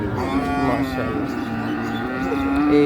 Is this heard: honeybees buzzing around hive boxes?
no